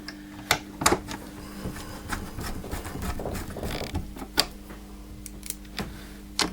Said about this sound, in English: back in go the screws